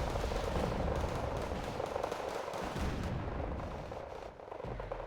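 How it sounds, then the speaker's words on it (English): Artillery fire in Wargame: Red Dragon rumbles as a dense, continuous barrage of overlapping booms and blasts, steady and loud, with no voices. "And fire artillery of the FKP units"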